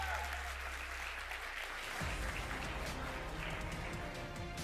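Audience applause at a motivational talk, a broad continuous wash of many hands clapping, fairly distant and steady, with a low rumble joining midway and faint voices mixed in.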